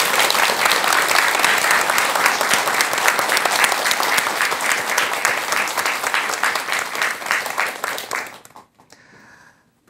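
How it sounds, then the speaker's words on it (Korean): An audience gives loud, sustained applause to welcome a monk's lecture, dense clapping filling the hall before cutting off abruptly near the end. "큰 박수로 열심히 들어주시기 바라겠습니다"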